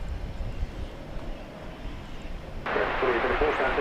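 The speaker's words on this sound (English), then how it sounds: "Emirates daily flight coming in from Dubai. This is a 777" An Emirates Boeing 777 jet arriving at DFW after a flight from Dubai, its broad engine roar steady in the distance and swelling louder and brighter near the end.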